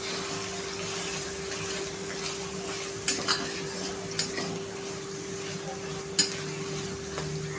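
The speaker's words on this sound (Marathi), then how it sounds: "छानपैकी मावा भाजून घ्यायचा आहे आपल्याला।" Mawa is stirred and roasted in a pan over a medium gas flame for lauki halwa, with a low steady sizzle, a constant hum and a few sharp spoon scrapes against the pan.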